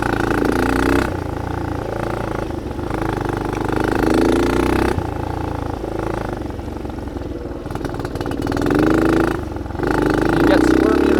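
A dirt bike engine ridden through snow, loud and close, revving up and easing off in repeated surges with throttle changes and brief lulls, under some rider talk.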